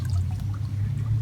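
Water pours steadily into a broken water bottle, a continuous low, full gush that stays loud and even throughout with no talking.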